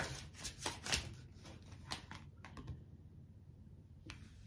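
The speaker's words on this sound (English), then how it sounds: "let's get two more cards out of this deck" Tarot cards being drawn and shuffled from a deck during a card reading: soft papery flicks and light snaps, a cluster of quick taps early on and one more near the end, quiet and close.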